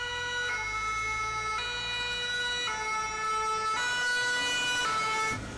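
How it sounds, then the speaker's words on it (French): Fire engine sirens blare loud and close as a line of fire trucks leaves the station, the wailing tones stepping up and down in regular shifts over road rumble. "Dans un brouhaha de gyrophares et de sirènes, les engins à la queue leu-leu quittent le bâtiment maintenant vide."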